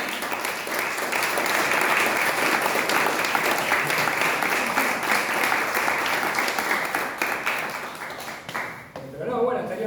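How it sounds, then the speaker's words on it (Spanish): Audience applause at a community sports clubs talk, a dense, steady clapping that lasts about nine seconds, then thins out near the end as voices come through. "También me pueden aplaudir."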